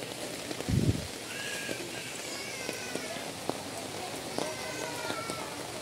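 Rain falls steadily outdoors, a soft continuous patter with scattered closer drips, while people talk and a brief low thump sounds early on.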